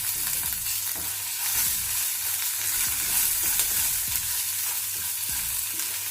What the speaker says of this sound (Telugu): మీడియం ఫ్లేమ్లో పెట్టి వేయించుకోవాలి.